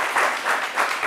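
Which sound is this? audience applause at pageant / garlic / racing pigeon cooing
audience applause at pageant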